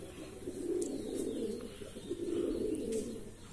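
Andhra Madrasi pigeons cooing softly in two rolling low bursts, fairly quiet and close, with faint chirps above and no talking.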